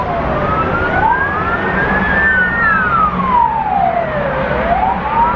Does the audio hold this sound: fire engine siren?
yes